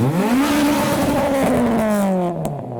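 A Subaru wagon engine revs loudly and steadily, its pitch climbing then slowly falling, close by and with no talk over it, at a JDM car show roll-out.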